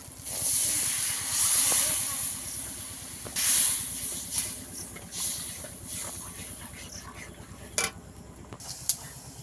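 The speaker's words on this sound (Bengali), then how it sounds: "গ্রেভির জন্য ঝোলটা ভালোভাবে ফুটে গেছে" Coconut-milk gravy for prawn malai curry, with mustard added, boils in a pan, giving a steady close hiss with soft bubbling and occasional sharper pops.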